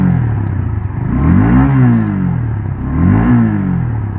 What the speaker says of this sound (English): Okay, I'm gonna rev it now so you guys can hear it.